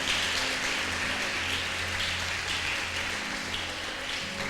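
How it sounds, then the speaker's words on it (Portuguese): A church congregation applauds steadily in a large hall, a dense even wash of clapping that holds at one level throughout. "Vamos aplaudir o Senhor pela vida delas."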